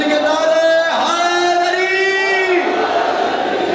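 A crowd at a religious celebration shouts a slogan in unison, one sustained, swelling chorus of many voices that rises and falls, loud and close.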